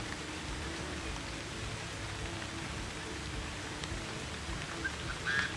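Steady, soft rain falls in Cambodia, a faint, even hiss with no clear breaks, and a brief faint chirp near the end.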